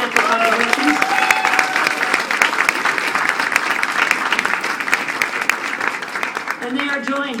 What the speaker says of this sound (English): Could we just give them a round of applause for the huge financial contributions?